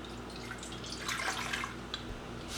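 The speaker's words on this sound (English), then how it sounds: "I'm going to add water to my electric pressure cooker" Water is poured into an electric pressure cooker pot, a soft, close splashing and trickling that swells in the middle and then tapers off, with a low steady hum underneath.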